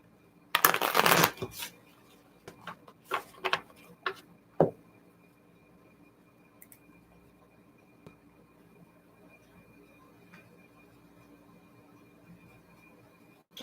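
A loud burst of card shuffling riffles at the start, followed by several quick snaps and taps, then a long quiet stretch.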